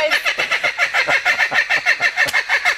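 Chickens cluck in a steady, rapid run of short repeated calls, close and fairly loud, with no talking over them.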